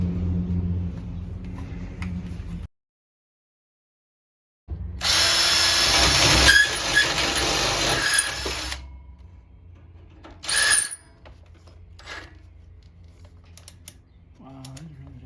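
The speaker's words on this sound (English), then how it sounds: "the drill bit is still not cutting through" Battery power drill grinding with its bit failing to cut through the workpiece while building a DIY roof rack shovel and axe mount; loud harsh whine for a few seconds after a pause, then scraping clicks and handling noises.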